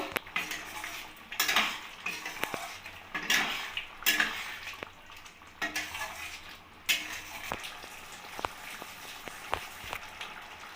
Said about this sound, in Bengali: এবার আমি ভালোভাবে নাড়িয়ে নেব।